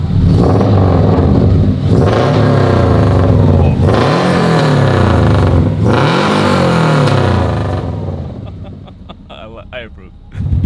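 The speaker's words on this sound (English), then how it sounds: "while I give it some revs" A rally race car engine revs loudly and close, with repeated rising and falling surges in pitch, then drops to idle and fades near the end.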